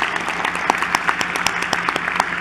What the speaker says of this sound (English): I'd like to start a round of applause